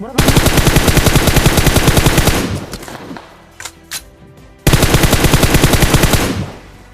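Kar-98 and MK-14 gunfire in PUBG Mobile rings out as two loud, rapid bursts of evenly spaced shots, split by a short quieter gap with scattered distant cracks. No one speaks.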